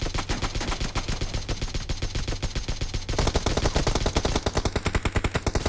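Rapid automatic gunfire in the mobile battle royale game PUBG Mobile hammers out in long, dense bursts, loud and continuous, the firing growing even heavier partway through, with no speech over it.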